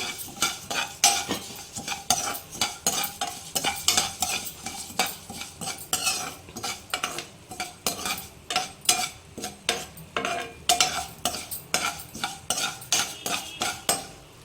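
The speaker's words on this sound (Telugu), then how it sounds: "ఆలోగా మనం ఎండుమిర్చి ఫ్రై చేసుకుందాం" Dried red chillies being fried in a pan over a low flame while making Andhra-style gongura pachadi, with steady rhythmic stirring and spoon scrapes against the pan above a faint sizzle.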